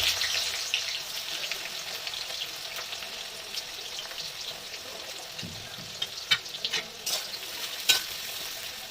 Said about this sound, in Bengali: এবার আমি পেঁয়াজ কুচি দিয়ে দিচ্ছি এর মধ্যে।